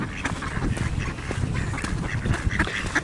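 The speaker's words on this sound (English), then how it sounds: "you've got some mallards down there" Mallard ducks quack repeatedly at a seaside park in Skegness, a busy flock calling in irregular overlapping bursts at moderate distance.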